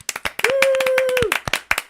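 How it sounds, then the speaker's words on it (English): Scattered hand claps from an online concert audience, a handful of sharp separate claps from one or two nearby listeners, with a sustained voice crying out briefly in the middle. "Unmute if you can and give him a round of applause."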